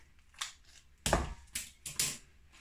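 A vegetarian sausage casing cut with scissors, heard as a few short, crisp snips and crunches, the loudest in the middle, close and quiet with no talking.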